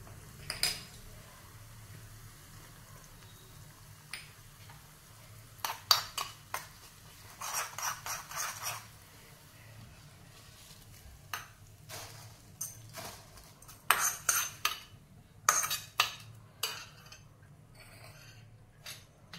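Fried poha chivda is tossed and mixed in a kadhai, giving faint scattered clinks, scrapes and rustling bursts against a quiet background, with no talking.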